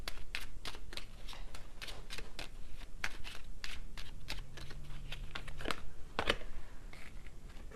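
Tarot cards being shuffled and pulled, a close, quiet run of rapid riffling flicks and soft slaps repeating throughout.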